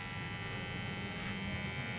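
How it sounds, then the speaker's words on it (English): An electric hair clipper, warm from use, buzzes steadily at close range while tapering sideburns during a haircut and beard trim, a continuous even hum with no voices. "This is the same clipper."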